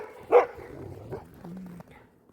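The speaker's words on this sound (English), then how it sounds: "Dogs on alert." A dog gives a single sharp bark up close, followed by a few softer yips and a low whine. The sounds come in short bursts against a quiet, cold-weather background.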